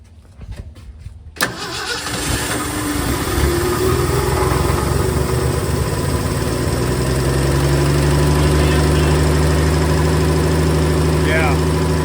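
An old Ford F-100 truck engine cranks and catches after a brief start, then settles into a loud, steady high idle with a constant low rumble close by, with people talking over it.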